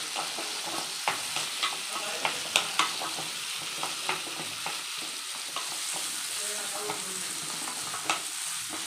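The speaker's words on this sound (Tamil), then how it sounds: "சேர்த்து இதை நல்லா வதக்கிக்குவோம்." Close, continuous sizzling of gongura (sorrel leaves) in a hot pan, punctuated by irregular scraping taps of a spatula stirring the greens.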